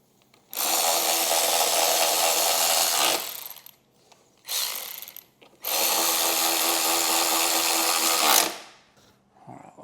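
A power driver runs bolts back into a car panel cover during a Kenwood Excelon P-HD3FR speaker and amp kit install, giving three loud, close bursts of steady whirring: a long one, a brief one, then another long one that winds down.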